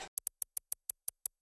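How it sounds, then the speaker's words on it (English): Crisp hi-hat samples for a Detroit-style beat tick nine times in a quick, slightly uneven rhythm, bright and close, each hit short and clean against silence. "My favorite hats for the Detroit beats are ones that sound like this."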